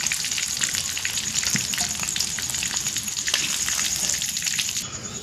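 Chicken chops fry in hot oil with a loud, continuous, close crackling sizzle that stays steady throughout, with faint pops scattered within it.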